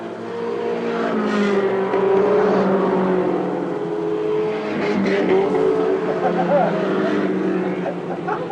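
Mini stock race cars lap a short track in a qualifying heat race, their engines droning and roaring together at a steady pitch, while a track announcer talks over the noise throughout.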